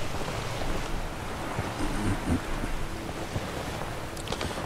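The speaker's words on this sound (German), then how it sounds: "Ist ja ganz normal, dass die Wellen da ein bisschen höher schlagen." Rough waves in stormy weather around a small rowing boat at sea in The Witcher 3 make a continuous wash of surf and wind noise, broad and churning, with no one speaking.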